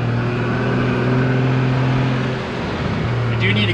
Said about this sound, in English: now I'm trying to start in third gear